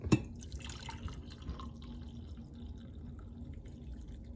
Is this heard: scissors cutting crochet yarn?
no